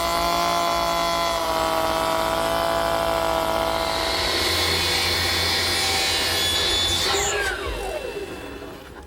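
A router bit on a router table cutting a half-round and cove molding into wood stock, a loud continuous high whine throughout that drops away as the motor spins down near the end.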